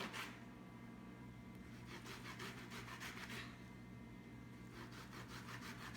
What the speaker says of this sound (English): while you're zesting, you're putting pressure on it, which makes the juices come out